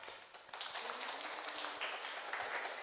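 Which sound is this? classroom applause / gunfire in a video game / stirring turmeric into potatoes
classroom applause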